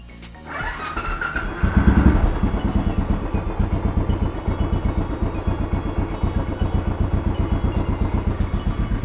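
A repaired motorcycle engine catches after a starter whine and settles into a steady, loud, rapid idle pulse, close by and running alone without talk.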